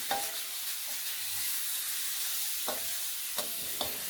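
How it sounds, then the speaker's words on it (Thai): Soft pork bones stir-fry in a hot pan with a steady bright sizzle, broken by several crisp scraping stirs and clacks of the spatula near the end, and no talking. "ตามด้วยกระดูกหมูอ่อนอีก 500 กรัมครับ ใส่ลงไปเลย แล้วก็ผัดต่อเลยครับ"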